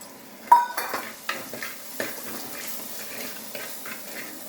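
Washed garcinia (kudampuli) goes into a pan and is sautéed while a fish curry cooks, with a sharp utensil clatter followed by intermittent scraping and stirring knocks over a soft sizzle.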